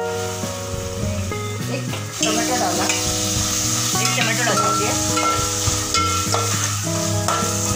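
Chicken sizzling on a hot tawa with ginger garlic paste for a Mangalorean chicken sukka, a loud, steady fry that swells after a couple of seconds, with stirring clatter and a music bed underneath.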